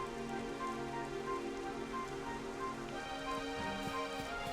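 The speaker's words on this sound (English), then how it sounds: "I guess the rain is just that thick" Heavy, steady rain in the Dragon Quest XI video game, a dense continuous patter of drops across the whole stretch with faint tonal game sounds beneath and no talking.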